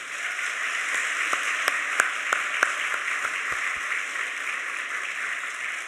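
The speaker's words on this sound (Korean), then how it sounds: "큰 박수 하겠습니다" A church congregation applauds during an anniversary service with a deacon retirement and ordination ceremony, a steady wash of clapping filling the room with a few sharper claps standing out near the front.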